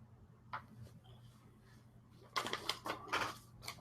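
Typing on a keyboard in a quiet room: a couple of isolated keystrokes, then a brisk burst of close, clicky key presses over a low background hum.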